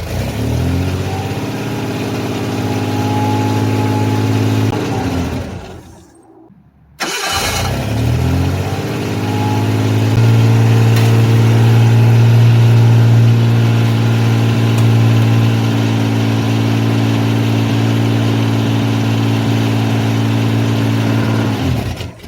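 A Ford Bronco II engine starts, cuts out briefly, then catches again and runs loud and steady with a deep rumbling idle and some revving, close up with no talking.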